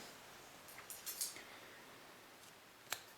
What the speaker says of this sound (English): then I'll cut this yarn